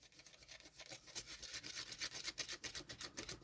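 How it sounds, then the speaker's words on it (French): Steady rubbing of an eraser scrubbing pencil lines off paper, a close, soft, continuous scratchy friction with quick back-and-forth strokes. "Il me faudrait une gomme, ça serait pas mal. Bon, je vais gommer avec ça."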